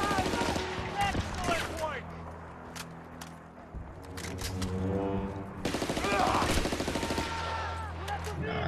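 Rapid gunfire in the Battlefield: Bad Company video game, with dense bursts of shots and a fusillade tail repeating through the clip, mixed with steady tonal game sounds and occasional voices.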